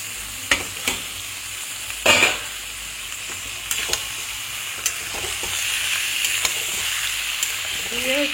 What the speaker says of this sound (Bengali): দিয়ে পেঁয়াজ রসুনটার সাথে ভালো করে একটু ফ্রাই করবো, জাস্ট 2-3 মিনিট।